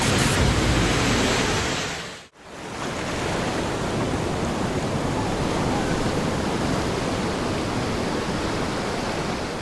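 Large, powerful ocean waves crash onto a beach, a loud, steady roar of surf that cuts off sharply for a moment near the start before resuming at full strength.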